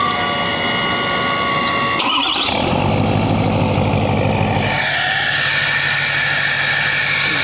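A 6.7L Powerstroke diesel truck, tuned to 725 hp, runs steadily on the road in a continuous loud drone, with a sharp shift in tone about two seconds in and again near the five-second mark.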